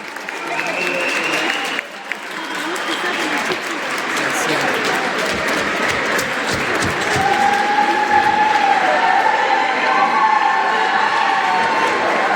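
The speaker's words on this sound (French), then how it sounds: "Un tonnerre d'applaudissements pour les équipes, vraiment." Spectators give a long, thunderous round of applause and cheers for two teams after a match, a broad wash of clapping that swells steadily, while an announcer talks over it.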